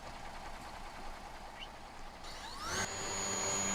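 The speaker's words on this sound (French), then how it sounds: "Je l'aime bien, ce petit tracteur." A small tractor engine in a farming game runs with a rough, steady idle, then revs up near the end with a rising whine that holds at a higher pitch, no talking over it.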